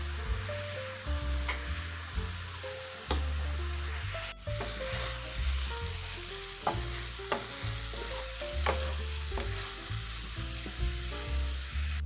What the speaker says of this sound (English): we're going to let our shrimp cook for 4 to 5 minutes